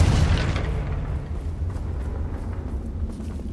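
Confringo fire spell blasting in Hogwarts Legacy, a single loud boom at the start that rolls into a long, rumbling decay with scattered crackles.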